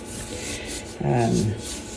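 Hands rubbing a salt cure into pork loins, a soft dry scraping and rasping that swells briefly in the middle, with faint background noise.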